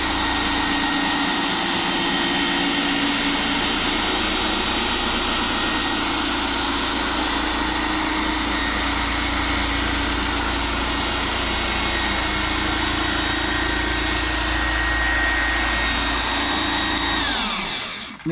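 Rotary polisher running steadily at about speed three while spreading an SB3 ceramic coating, a loud continuous motor whine with a low hum that holds for about seventeen seconds before spinning down at the end.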